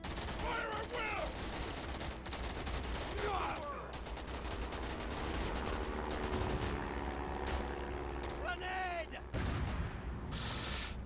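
Gunfire in the War Alert video game: dense bursts of rapid shots and explosions layered over rumbling battle noise, with sharp clustered cracks throughout and brief game voice chatter in between.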